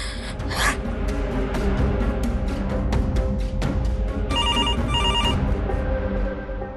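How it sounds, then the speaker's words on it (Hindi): A landline telephone rings in loud repeated bursts of bell-like trills over a dense, raspy background, with a higher electronic ring pattern joining near the end. "और लैंडलाइन पर कौन फोन कर रहा है?"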